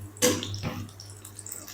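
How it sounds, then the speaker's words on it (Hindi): Water is poured into a hot pan of onions, fried cashews and green chillies for a kofta gravy. A short splash and sizzle burst comes first, then a second brief splash, then faint bubbling. "अब हम इसके अंदर थोड़ा सा पानी ऐड करेंगे।"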